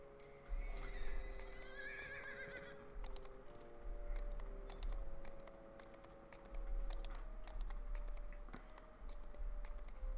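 Horse whinnies in a fantasy role-playing game, a high neigh rising over a steady bed of hoof clip-clop and ambient game noise, with several shorter calls scattered through.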